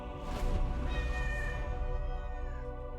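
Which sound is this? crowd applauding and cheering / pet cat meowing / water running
pet cat meowing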